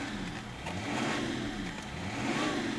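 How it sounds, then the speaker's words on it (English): Diesel engine of a 2003 BMW 330d M Sport saloon with a turbo, a steady mid-pitched drone rising and easing as it accelerates, heard from inside with a faint hiss over the hum. "You can hear the turbo chirp and all the rest of it"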